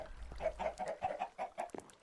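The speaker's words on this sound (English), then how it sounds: "We better go and check on our chickens," Chickens on a Minecraft farm cluck in quick, bouncy bursts, a lively run of short calls heard up close with nothing else competing.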